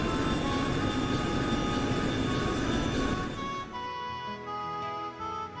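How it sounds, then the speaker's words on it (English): An airship takes off in the video game Trails in the Sky SC: a dense, loud engine roar runs for about three seconds, then thins into a lighter tonal hum. "Bit of a bumpy takeoff then, wasn't it?"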